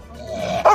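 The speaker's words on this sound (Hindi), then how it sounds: "मालिक का वफादार कुत्ता।" A loyal dog perched on top of its owner's rickshaw gives a low, drawn-out whine, then one sharp, loud bark close by at the very end.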